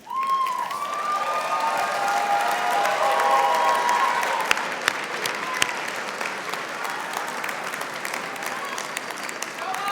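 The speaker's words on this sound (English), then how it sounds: "give your family and friends a big round of applause" At a College of Design commencement, a large crowd of graduates bursts into sustained applause and scattered cheering for their family and friends. The clapping swells over the first few seconds, then settles into a steady, slightly quieter roar.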